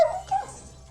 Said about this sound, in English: that's my dog Junior